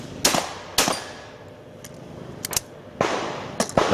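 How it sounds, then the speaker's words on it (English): Gunshots fired at targets during a shooting competition final, several sharp, loud reports spaced irregularly, some close together, with no talk over them. "that's really good shooting there from Sam."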